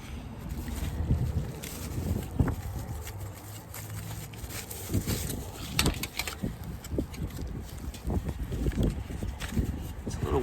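Gusty wind buffets outdoors with uneven rushes and low rumbles, and faint bird calls appear now and then in the background.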